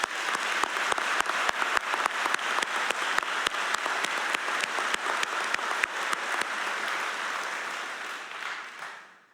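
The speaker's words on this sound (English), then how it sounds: "Please join me in recognizing all of our law enforcement partners with a round of applause." A large audience at a state police cadet class graduation claps long and hard, dense steady applause with a few louder individual claps standing out before it trails off at the end.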